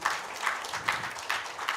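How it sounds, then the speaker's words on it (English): Faint, sparse clapping from an audience at a 70th anniversary celebration, acknowledging the ED, with soft hand claps pulsing in a loose rhythm at a distance. "Another round of applause to the ED."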